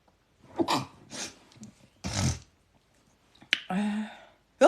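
A woman sneezes a few times in quick bursts, close and loud, with breathy pauses between them and no talking.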